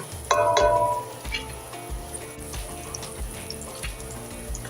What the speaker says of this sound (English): Add the garlic, and let toast for 30 to 45 seconds.